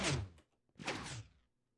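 A wooden door slams shut in Minecraft, giving two short, soft thuds about a second apart, near and fairly quiet with silence between them.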